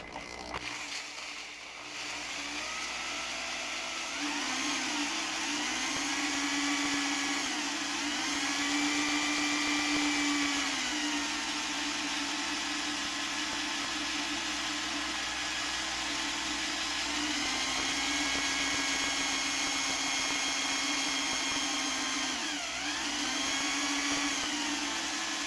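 A drill spins a tumbler on a wooden dowel for sanding, giving a steady loud motor whine that runs for the whole stretch and rises and dips slightly as the speed changes.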